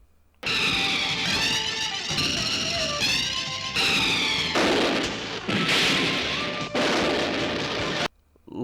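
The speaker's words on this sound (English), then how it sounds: "Lots of explosions." Loud, dense bursts of explosions and crashing blasts from a tokusatsu action show, coming in several heavy waves over about seven seconds with brief gaps, then cutting off near the end.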